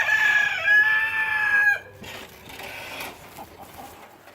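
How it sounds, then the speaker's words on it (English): A rooster crows loudly and close for nearly two seconds, followed by several hens clucking in short, scattered bursts at a lower level. "Get back inside, you crazy birds."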